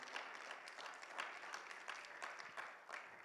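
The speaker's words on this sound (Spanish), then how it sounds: "Denle un fuerte aplauso a ese rey maravilloso" A church congregation at a Bible class claps steadily for a few seconds, a soft, distant wash of applause with no clear talk over it.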